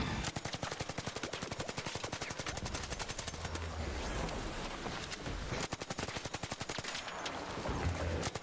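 Video game gunfire rattles out in long rapid automatic bursts, dense and loud with brief pauses between strings of shots and no talk over it.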